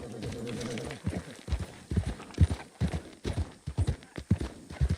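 A horse gallops in Red Dead Redemption 2 with rapid, steady clip-clop hoofbeats close by, plus a brief whinny, while someone talks over the hooves.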